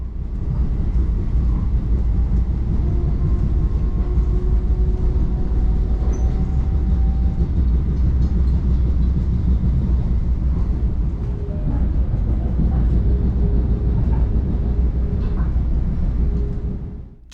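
Long Island Rail Road commuter train running between Long Beach and Island Park, a steady loud rumble of wheels and motors with faint rail clatter and occasional squeals throughout.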